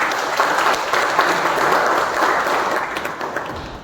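An audience claps in a steady, dense round of applause for a few seconds, fading slightly toward the end with no voices over it.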